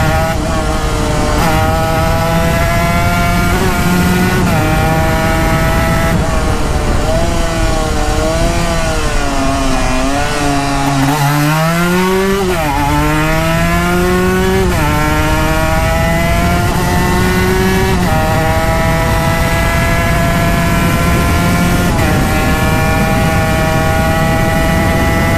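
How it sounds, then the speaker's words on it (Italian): A warmed-up, modified Zip scooter engine revs loudly and continuously on a busy road, its pitch climbing and falling in long sweeps, dipping sharply midway before rising again, with no talk over it. "faccio sentire un poco la moto, dato che non la sentite da parecchio tempo"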